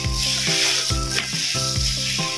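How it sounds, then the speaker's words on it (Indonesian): Hands stirring soybeans mixed with chicken flour during tempeh making, a continuous close, dense, gritty rustling and squelching with rhythmic surges roughly every half second, no voices. "Lalu kita akan mengaduknya dengan tangan agar semakin merata tepung yang sudah tadi kita taburkan"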